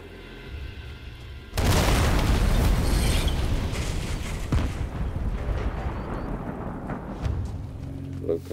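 Gunfire and explosions from the Sniper Elite 5 Atlantic Wall mission. A loud, booming blast hits suddenly and is followed by sustained rumbling and crackling battle noise with repeated shots. The din stays heavy and close throughout.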